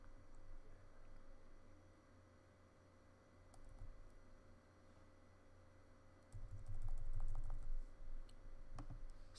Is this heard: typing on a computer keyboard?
yes